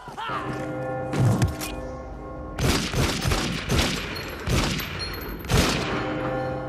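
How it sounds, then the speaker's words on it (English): Six loud gunshots from the 2003 film Underworld ring out one after another in spaced bursts, each with a sharp crack and lingering echo, over a low film soundtrack. "She decides to sextuple check this man by shooting six bullets into his head to make sure that he's dead."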